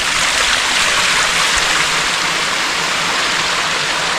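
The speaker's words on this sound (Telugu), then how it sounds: "ఇప్పుడైతే చూడవచ్చు మొత్తం పైనుంచి వాటర్ ఏ విధంగా పడుతుంది చూస్తున్నారు కదా" Water cascades down at Lohagad Fort near Lonavala during heavy monsoon rain, a loud, steady, unbroken rushing that fills the whole stretch with no voices.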